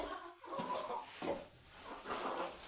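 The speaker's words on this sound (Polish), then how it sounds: "Na koniec pokażę tam kurę chyba." A hen clucks in short, scattered bursts at a small backyard coop, close by and fairly quiet, with a faint metallic clink in the background.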